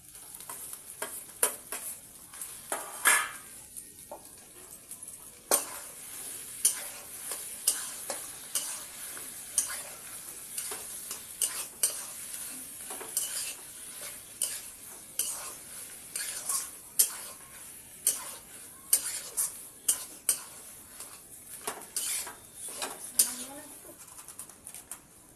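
Boiled potato being stirred into a fish chop mixture in a pan, a steady soft scraping and sizzle running throughout with repeated sharp clicks of the spoon against the pan, while faint bird coos sound in the background.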